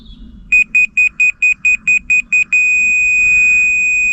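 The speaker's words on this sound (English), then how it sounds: "Wherever that receiver beeps, solid beep, it's level." A laser level receiver on a house-building site gives a run of about nine short, evenly spaced beeps, then holds a steady continuous tone for the rest of the moment, loud and close over faint background noise.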